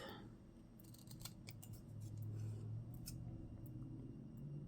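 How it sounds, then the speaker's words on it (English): Scissors reserved for gluey work snip through vellum backed with double-sided tape, giving a few crisp close cuts over a steady low background hum, with no talking. "I use these scissors for anything that's gluey"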